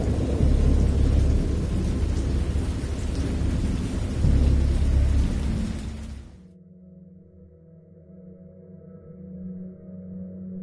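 Thunderstorm with heavy rain in the horror game Dagon: a loud, steady downpour with rumbling thunder that cuts off abruptly after about six seconds, leaving a quiet low drone with no voices.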